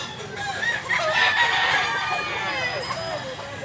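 A two-year-old yellow-legged rooster of a quality fighting line from Mantalungon, Cebu, lets out a loud, close crow that rises and trails off, with farmyard clucking around it.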